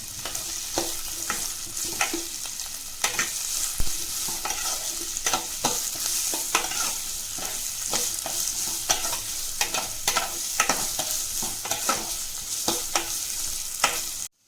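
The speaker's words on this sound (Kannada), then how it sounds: "ಇದ್ರ ಜೊತೆಗೆ ಈರುಳ್ಳಿ ಕೂಡ ಹಾಕೊಳ್ಳೋಣ. ನೋಡಿ, ಫ್ರೈ ಆಗಲಿ ಚೆನ್ನಾಗಿ" Chickpeas and onion fry in a pan for a chana usli snack, giving a continuous loud sizzle over repeated clinks and scrapes of a spoon stirring the pan, with no talking.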